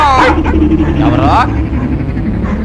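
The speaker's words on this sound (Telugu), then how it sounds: "ఇటు కుక్కలు ఒకదానికోటి పోటీ పడి అరుస్తున్నాయి" Dogs bark and yelp in a noisy outdoor comedy scene, the sharp barks overlapping with loud voices and a steady low rumble.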